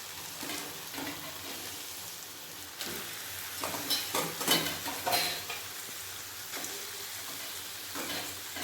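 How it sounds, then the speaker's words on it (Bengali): Spice masala for mutton head curry fries quietly in a pan, a soft steady sizzle with intermittent stirring scrapes and clinks, closer and busier in the middle. "মশলা ভালোভাবে কষানো হয়ে গেছে এরপর দিয়ে দেবো মাংস"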